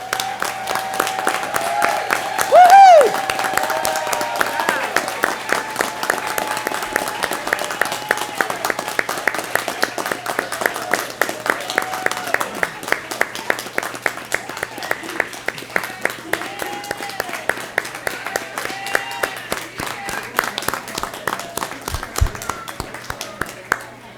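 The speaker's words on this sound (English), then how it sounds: "I want you to stand so we can all applaud you." An audience at a hospital's 30th anniversary celebration applauds steadily for over twenty seconds, with the clapping staying even in rhythm and fairly close throughout.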